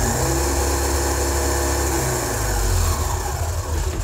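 A WLtoys RC buggy's electric motor runs flat out at full throttle, giving a steady, loud, dense whine and buzz that holds throughout with a slight swell near the end.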